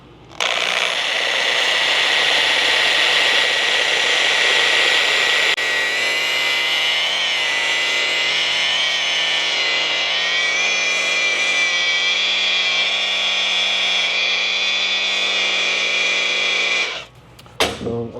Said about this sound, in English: So now we're going to go ahead and take our polisher.